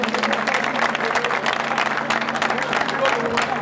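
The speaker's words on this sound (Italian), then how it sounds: "Per il padrino facciamo un grandissimo applauso per la zio Nicola e la moglie" Steady crowd applause at a campanariello street festival in Casavatore, dense and continuous clapping, with voices mixed in beneath it.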